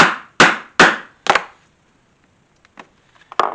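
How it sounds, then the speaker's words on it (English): An awl punching a starting hole in a leather holster: four sharp, close knocks in a quick even rhythm, followed by a pause and a few fainter taps. "I'll take my awl in that corner"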